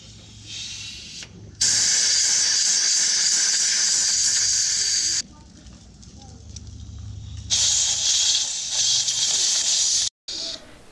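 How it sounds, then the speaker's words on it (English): Compressed air blasts clean trailer light connectors in several loud, sharp hissing bursts of a few seconds each, separated by quieter gaps with faint background sound. "Now to clean these, you can just use compressed air."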